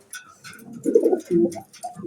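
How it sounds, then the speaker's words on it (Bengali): Pigeons at a pigeon farm give soft, throaty coos close by, two or three rolling calls in quick succession with no talk. "চলুন আমরা এক এক করে সেই কবুতরগুলো দেখাই"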